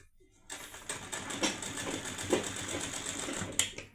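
A sewing machine stitches a katori blouse, its rapid mechanical chatter starting after a brief pause and running steadily close by, with a few sharper clicks.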